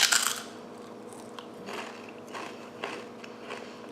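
Potato chips, somewhere between a standard chip and a kettle chip, crunched between the teeth, a loud first bite followed by several softer crunching chews close up.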